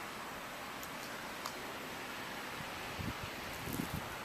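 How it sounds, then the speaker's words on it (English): Wind during a heavy March snowstorm in Maine: a faint, steady, breathy rush with a few soft bumps and rustles near the end. "here comes the wind"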